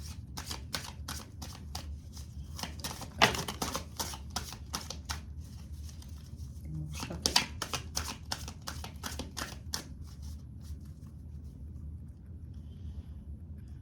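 A tarot deck riffled and shuffled by hand, rapid papery flicks in dense bursts running throughout at close range, with a couple of sharper taps of the cards along the way and no voices.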